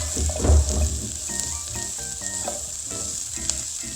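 Fried gnocchi sizzle and crackle in a hot pan, a loud steady frying hiss with a burst of stirring and shuffling early on, close up and without speech.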